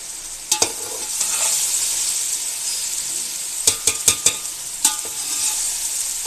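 Okra with green chillies fries in a pan, with a steady sizzle underneath and a few sharp, close clatters of stirring against the pan. No one speaks.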